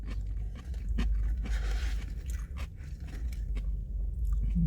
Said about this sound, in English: I gotta chew it fast because it hurts.